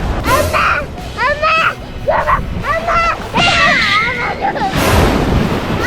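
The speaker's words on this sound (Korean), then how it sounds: "지금 파도 속으로 들어가고 있습니다" Ocean surf rolls onto a beach in Vietnam as a steady broadband wash, with a brief louder surge near the end, mostly beneath excited family voices talking and laughing throughout.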